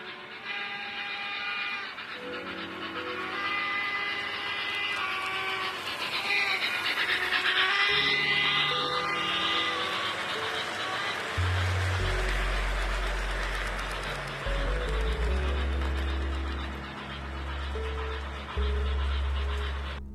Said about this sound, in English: the locomotive has a hooter whistle, which is a 1-chime whistle